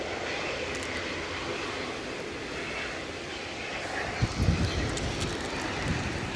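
An EasyJet airliner at Edinburgh Airport gives a steady, broad engine roar held at a constant level throughout, with a brief louder rumble near the end; no one speaks.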